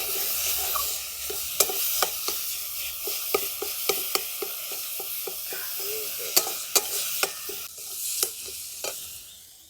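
Ground turmeric, coriander and cumin fry in a pan for a katla fish kalia, a steady soft sizzle broken by a series of sharp spoon scrapes and taps at irregular intervals, close and without talk.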